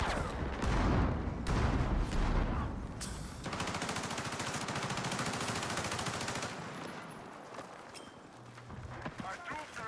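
Battlefield video game gunfire: sustained automatic shooting and overlapping shots in a dense, noisy combat mix that runs almost the whole way through. It is fairly quiet overall, with a voice talking over part of it.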